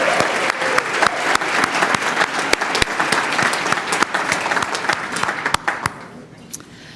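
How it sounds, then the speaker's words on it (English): Audience applause for volunteers at a community awards ceremony in Michigan, a dense, steady round of clapping from a large crowd, loud and sustained before tapering off near the end. "How about one more round of applause for all of our volunteers?"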